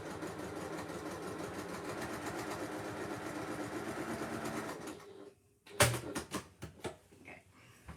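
A sewing machine stitches straight through a foam-backed fabric panel with no back stitching, a steady rapid mechanical whirr for about five seconds that stops abruptly, followed by a few sharp clicks and handling knocks.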